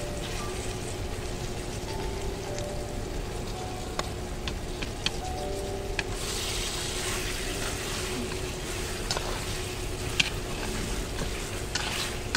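Chicken drumsticks fry in a pan with fish sauce, sugar and garlic, a close, steady sizzle with scattered pops and the scrape of stirring, continuing evenly throughout.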